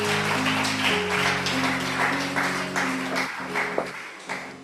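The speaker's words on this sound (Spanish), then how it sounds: "Dele un aplauso al Señor, por favor." A church congregation claps together in steady, dense applause during a worship service, over sustained instrumental tones that fade toward the end.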